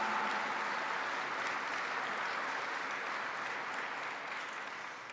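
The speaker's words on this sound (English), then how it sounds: "So give yourselves a round of applause." Soldiers of the 10th Mountain Division give sustained applause at a military address, a dense, steady patter of many hands heard from a distance that fades slightly toward the end.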